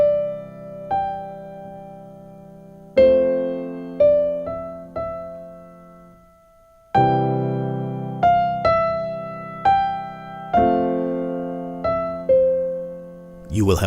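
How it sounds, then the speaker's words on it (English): Piano playing simple individual melody lines, with single notes and small chord hits struck one after another in a slow, unhurried rhythm. Each note decays clearly, heard close and alone with no talking. "then you can try to play individual little melodies"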